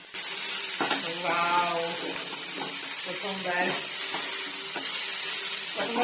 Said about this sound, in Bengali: এর ভেতরে দিয়ে দেবো ভালো করে এটাকে ভেজে নেব